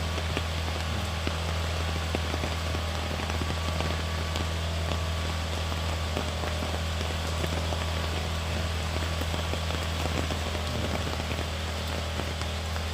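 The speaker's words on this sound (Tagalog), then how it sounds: "Ayan, magdamag na ulan." Heavy overnight rain during Typhoon Kristine in the Philippines falls as a steady, dense hiss with a low rumble beneath, constant and loud throughout with no voices.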